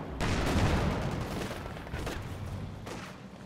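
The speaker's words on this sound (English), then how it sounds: "Rifle grenade this time" A rifle grenade fires in Company of Heroes 2, a sharp blast followed by a dense rumbling roll of battle noise that fades slowly, with faint further impacts further off.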